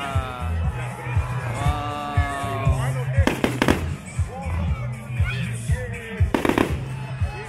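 A Victoria Day fireworks display pops and crackles in sharp bursts, with a few louder clustered bangs, heard at a moderate distance while people nearby talk and exclaim over it.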